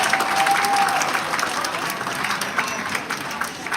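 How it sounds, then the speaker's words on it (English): Audience applause for bar staff at a carnival celebration show, a dense sustained wash of clapping with some crowd noise, loud and steady before easing slightly toward the end. "can you please give a big round of applause for your bar staff"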